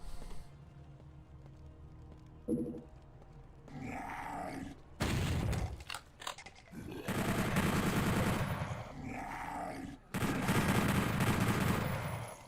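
Chaingunner enemies firing machine guns in Doom 64 on PlayStation, with loud bursts of rapid gunfire and booms alternating with quieter gaps, plus game grunts, close and dense.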